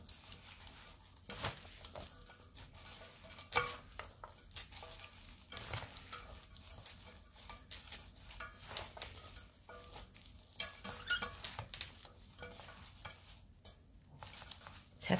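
Japchae ingredients, glass noodles with sugar mixed in, are stirred together in a pan, giving soft scraping and sizzling strokes repeated at an irregular pace, fairly close and quiet.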